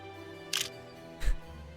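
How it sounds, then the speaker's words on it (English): A camera shutter sound effect played in a video game during development, two short, fairly faint clicks about three-quarters of a second apart against a low background hum. "play sound 2D, camera shutter, and we'll see how loud that is"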